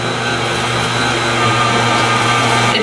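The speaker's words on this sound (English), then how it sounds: "It does make the mixer work a little bit, so just kind of go slowly." An electric stand mixer churns three cups of old-fashioned oats into lactation cookie dough, giving off a loud, continuous motor hum with a steady strained drone close by and no pauses.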